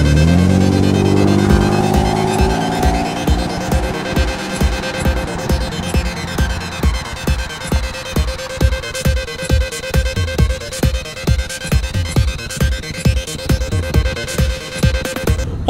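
A car pulls away hard at speed after a shouted word, its engine note rising and pulsing with rapid rhythmic bursts that stay loud and close throughout.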